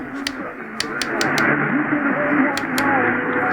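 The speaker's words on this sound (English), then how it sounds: "Now there's some music here too on 660." Faint music picked up on AM station 660 through a Sangean HDR-16 radio at night near Chicago, buried in hiss, crackle and periodic static bursts, with a continuous noisy tone throughout.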